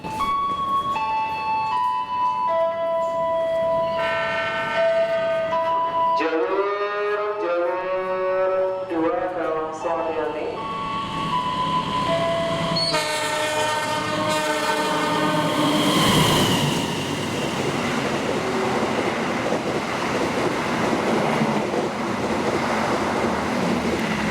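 An Argo Sindoro passenger train on its maiden run, its locomotive decorated with flowers, sounds a long multi-tone horn while passing, followed by loud rumbling and rushing rail noise from the cars rolling by.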